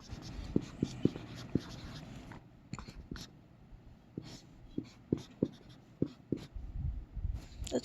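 Handwriting on a board or paper while working a math problem, a quiet series of short scratchy strokes and taps in an irregular rhythm, close by with faint background hiss.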